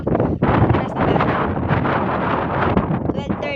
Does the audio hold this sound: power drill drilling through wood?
no